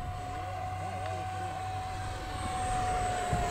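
Electric 50mm ducted fan on an FF-117V2 RC jet runs steadily at half throttle on a 4S LiPo, a close, sustained whine with a rushing airflow underneath and voices talking nearby.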